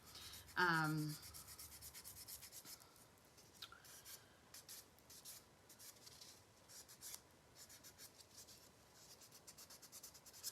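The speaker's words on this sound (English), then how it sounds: "this is just a buffing block, so I'm going in there and trying to get all of that black from off my nail" A buffing block scrubbed against a fingernail to remove black dip powder, giving faint, close, irregular rasping strokes in short bursts, with a brief higher squeak near the start and no voices.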